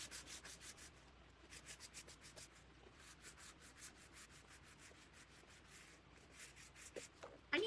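Sandpaper rubbing over a glass pickle jar being made into a wall vase, a steady rhythmic back-and-forth scraping close by, with strokes repeating evenly for the whole stretch and no talking.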